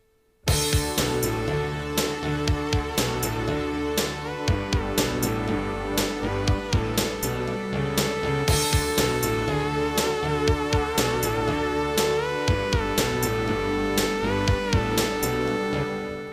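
A Roland JD-Xi synthesizer plays a cover song, with a driving drum pattern under a dense, sustained, modulated synth texture. It is loud and full throughout, with no voices.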